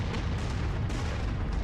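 Enemy weapons pounding a player's mech in MechWarrior 5, a dense, continuous barrage of heavy booming impacts and explosions with no pause.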